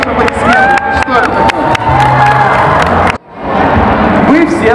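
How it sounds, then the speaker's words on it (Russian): An indoor audience claps and cheers in a loud burst of crowd noise, briefly cutting out midway before the clapping and hubbub resume, with people talking over it. "давайте хорошие аплодисменты"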